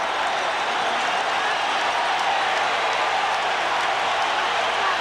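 A large baseball stadium crowd at a night game roars in a continuous, dense wash of cheering and noise, steady and loud throughout with no breaks.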